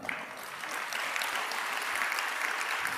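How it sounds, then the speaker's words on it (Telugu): A congregation claps during a Telugu Christian sermon, a steady, fairly close wash of many hands applauding throughout, with no talking over it. "ఇప్పుడు మీకు అర్థమైంది కాబట్టి చప్పట్లు కొట్టారు"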